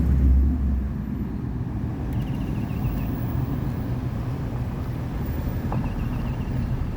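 A car rolls slowly through the drive-thru Museum of Wonder, giving a steady low engine and road rumble with some wind buffeting and faint higher rattles throughout, and no talk.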